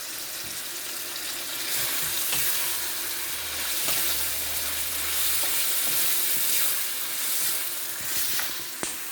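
Vegetable stew with chicken breast sizzles and fries in a pot while being stirred, a steady hiss with occasional scraping and clinks from the spoon, close and continuous.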